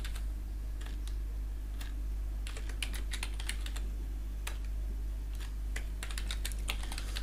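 Typing on a computer keyboard: bursts of quick, close key clicks in irregular clusters with short pauses, over a steady low hum.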